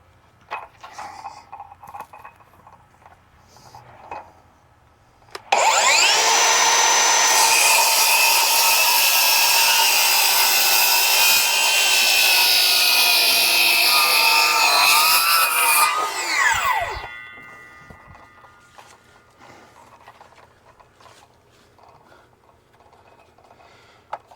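A power saw cuts boards for a deck lean-to roof in one loud, sustained whine of about ten seconds, with quieter handling noises before and after.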